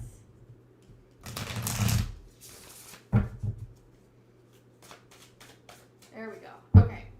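Tarot cards shuffled by hand during a live reading, two soft riffling bursts with a few light card taps afterward, fairly close and moderately loud over a quiet background.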